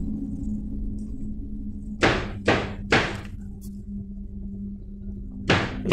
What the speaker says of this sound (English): some knocking